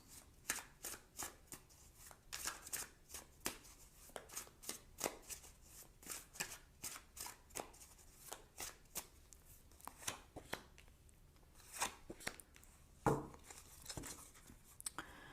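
Tarot cards are shuffled and drawn by hand, giving a steady run of quick, crisp riffles and flicks with brief pauses and one sharper slap near the end, close up and fairly quiet with no voices.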